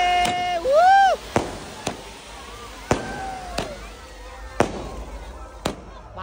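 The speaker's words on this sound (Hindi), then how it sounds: "बम फोड़ के मजा आ गया" Firecrackers bursting at an outdoor wedding celebration: a string of sharp, loud bangs spaced about a second apart, with a whistling rocket-like squeal near the start and a crowd of voices in the background.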